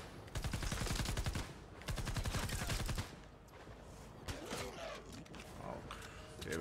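Rapid automatic gunfire rattles in two sustained bursts in Fortnite Save the World, followed by scattered single shots, mechanical clanks and creaks at a lower level.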